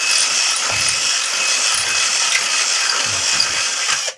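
A power drill without hammer mode bores into a soft wall while a shower heater is being installed, giving a steady, loud high-pitched whine with grinding texture that holds for about four seconds, then stops abruptly.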